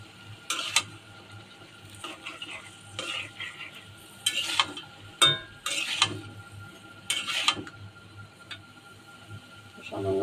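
A spoon scrapes and stirs potatoes frying with ginger-garlic paste and turmeric in a home kitchen pan, a run of close, sharp stirring strokes over a steady low sizzle.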